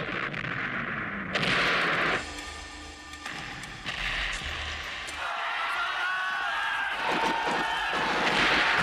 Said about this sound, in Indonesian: kedua kubu menggunakan mortir mereka secara membabi buta